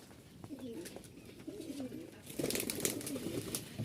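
Soft cooing from about 25 to 30 high-flying Giribaj pigeons in Rajshahi repeats through the clip, growing busier and louder toward the end, with faint background chatter and rustling.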